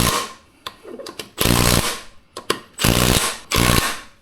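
A power tool on its number 2 setting runs in short repeated bursts, tightening the bolts of a Terache beadlock ATV wheel in a circle. Several loud whirring pulses alternate with brief pauses and clicks.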